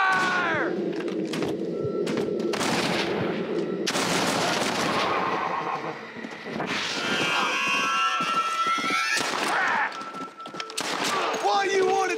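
Dense gunfire erupts in a Red Dead Redemption shootout at a mine, with rapid overlapping shots and game effects layered over music, and a voice talking through the fighting.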